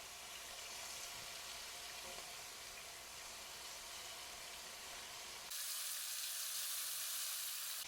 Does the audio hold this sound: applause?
no